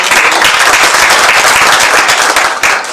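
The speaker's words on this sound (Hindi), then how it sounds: "इनके लिए एक बार जोरदार तालियां हो।" Loud, dense applause from an audience honoring the Atomy founder, a thick burst of clapping lasting a few seconds close to the microphone.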